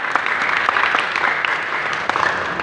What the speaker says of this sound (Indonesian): Nah, tepuk tangan lagi buat dia.